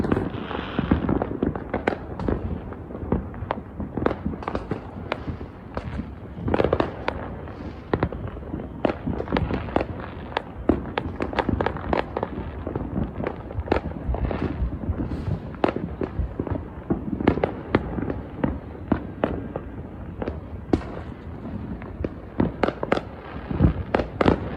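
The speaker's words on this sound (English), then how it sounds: "There were just a bajillion fireworks going off." Fireworks crackle and bang continuously, with many overlapping explosions near and far in a dense, unbroken barrage.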